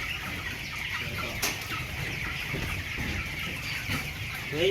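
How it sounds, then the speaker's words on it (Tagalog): Twenty-day-old broiler chickens cluck and murmur softly on a provincial farm, with scattered calls over a low background hum and a brief sharp rustle partway through. "At ito mga idol yung ating mga manok, 20 days."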